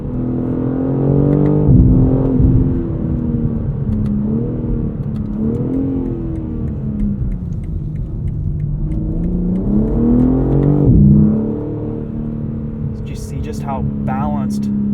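A 2023 BMW M3 Competition xDrive launching hard and accelerating through the gears, a loud engine note that rises in pitch, drops briefly at each shift and rises again.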